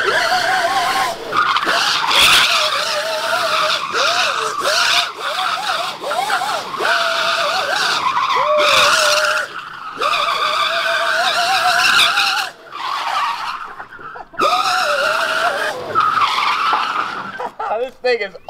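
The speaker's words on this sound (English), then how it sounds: "That's why I almost want to keep it with this sprocket because it lights the tires up." A Surron electric go-kart spins its tires and skids, with long loud squealing tire screeches sweeping up and down close by, broken by brief gaps, and a voice talking over it.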